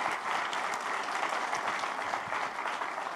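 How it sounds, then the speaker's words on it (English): Audience applauding the panelists at the close of a panel discussion, a full, even round of clapping held steadily throughout. "So can we have a round of applause for all the panelists here?"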